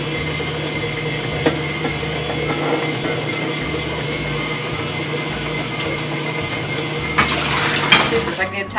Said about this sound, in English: It is about to boil. I can kind of hear it starting to bubble.